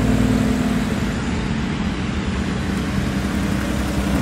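Porsche Boxster Spider sports cars roll in with a close, steady engine rumble and road noise filling the whole stretch.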